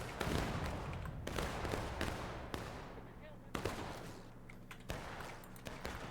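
Canister and musket fire ring out in a Civil War video game battle at Burnside's Bridge, with several sharp, loud reports spaced a second or so apart over a rumbling backdrop.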